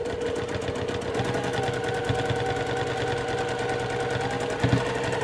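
A sewing machine running steadily and close during continuous-line free motion quilting on a Flying Geese quilt, a fast even mechanical whir throughout, alone without talk.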